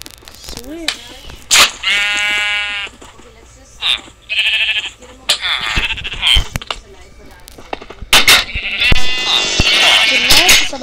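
Sheep bleat repeatedly in a zombie rampage video game, loud and close, in several wavering calls spread across the stretch with someone talking between and over them.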